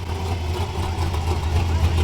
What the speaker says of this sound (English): Have a listen to that. Big block, you can smell it's running race fuel.